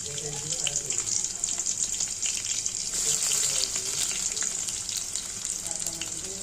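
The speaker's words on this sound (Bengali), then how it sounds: "তেল গরম হয়ে এলে দিয়ে দিব পেঁয়াজ কুচি" Chopped onions fry in hot oil in a kadai for a broiler chicken leg curry, a continuous bright sizzle with soft stirring scrapes and a brief louder burst midway, no talking.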